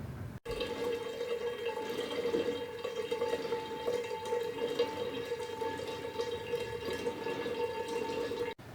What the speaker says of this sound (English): We need to siphon off using our special wine siphon into a clean demijohn